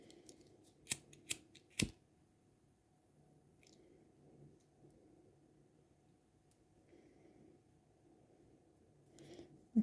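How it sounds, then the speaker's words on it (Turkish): Scissors snip sewing threads during needle-lace heart crafting: three sharp, close clicks in quick succession near the start, then quiet handling with a final faint click at the end. "Şöyle şu şekilde iplerimizi kesip yakıyoruz"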